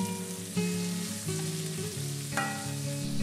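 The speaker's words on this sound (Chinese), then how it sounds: "起油锅炒香姜蒜八角排骨" Ginger, garlic, star anise and pork ribs stir-fried in hot oil in a wok, a steady close sizzle with scraping stir strokes and a few brief clanks, no talk.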